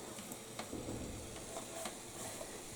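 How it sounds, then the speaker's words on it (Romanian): Grated carrot and chopped onion sauté in about 20 ml of oil, giving a faint, steady sizzle with a few soft stirring clicks and crackles on top. "Lăsăm un pic la sotat morcovul cu ceapa"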